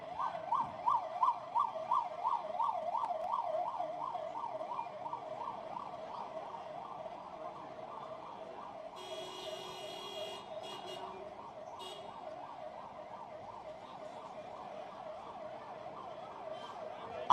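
An ambulance siren wails in a steady, rapidly alternating two-tone cycle, loud and continuous from start to finish, as it pushes through a dense roadside crowd during a political rally march, with a brief burst of crowd noise midway.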